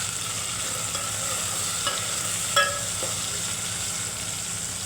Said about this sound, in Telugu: ఇవి లైట్గా ఫ్రై అయ్యాయండి. ఇప్పుడు కొద్దిగా కొత్తిమీర, పుదీనా వేసుకుందాం.